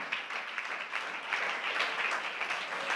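A church congregation claps together during a Tamil Christmas sermon, a continuous, fairly even wash of many hands heard from some distance in a reverberant hall.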